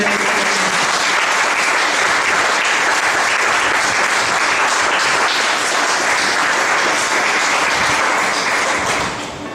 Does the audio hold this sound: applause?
yes